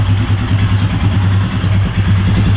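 A Royal Enfield Himalayan motorcycle engine idles close by with a steady, low, even thump, loud and unbroken for the whole moment with no talking.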